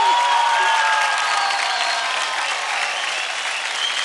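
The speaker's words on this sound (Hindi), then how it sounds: "जोरदार तालियां हो जाए" A large television dance-show studio audience applauds loudly and steadily, a dense wash of clapping with some crowd noise, continuing throughout.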